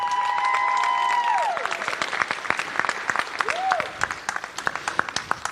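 Eighth grade graduation crowd applauding loudly, with clapping and cheering that swells then thins into scattered claps, a whistle or tone sliding through early on.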